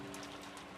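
Rain sound effect from the visual novel game Umineko: a steady, dense wash of falling rain, continuous and fairly soft, lasting under a second with no voices.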